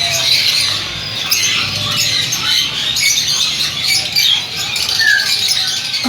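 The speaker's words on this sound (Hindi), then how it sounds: "ये अंदर कबूतर हैं और छोटे तोते हैं।" Pigeons and small parrots kept in cages at a busy bird market in Saddar, Karachi, producing a dense, continuous chatter of squawks and chirps with rustling and fluttering.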